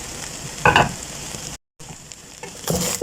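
Vegetable fried rice frying in a pan as an egg is added, with a steady sizzle and a brief burst of stirring, a short dropout of silence midway, then more scraping and sizzle near the end.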